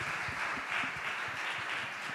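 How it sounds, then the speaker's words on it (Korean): Church youth congregation at a Sunday worship service clapping together, a steady, moderately soft round of applause in a hall with no voices over it. "한 번 더 축복하며 박수하겠습니다"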